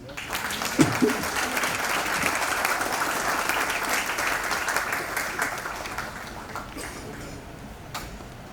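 A hall full of people applauds at a formal ceremonial session of a historical institute, a dense, sustained wash of clapping that gradually fades over several seconds.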